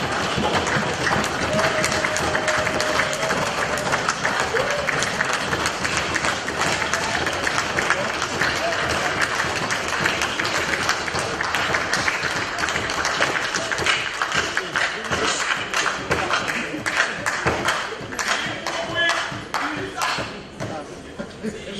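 Applause in a legislative chamber after a Senate vote: a long, dense spread of clapping from a large assembly, fairly loud and continuous throughout, with voices and murmuring mixed in beneath it.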